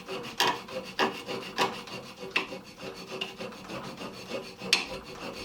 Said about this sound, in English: I'm going to go ahead and clean up these files with the copper tubing